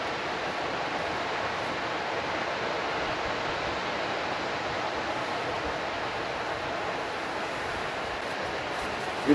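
Waterfall on the Isle of Skye: a steady, broad rushing roar of falling water, even and unbroken, heard alone without talk.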